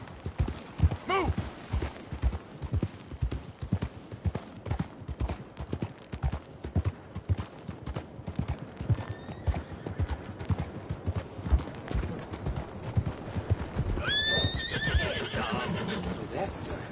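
Hooves clatter in a fast, continuous rhythm as horses move in Red Dead Redemption 2, with a sharp whinny rising near the end and voices talking over the gameplay.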